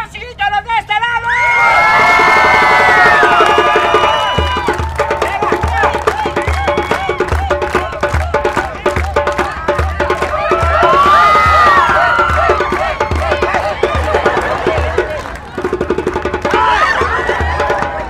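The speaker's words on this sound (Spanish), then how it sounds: "¡aplausos de este lado!" A lively crowd at a children's clown show cheers and shouts loudly and continuously, with whoops and children's voices mixed in, while an amplified voice talks over the noise at moments.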